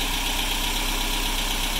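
A Toyota 22RE engine running at steady revs, a continuous close mechanical drone with a harsh hissing edge and no talk.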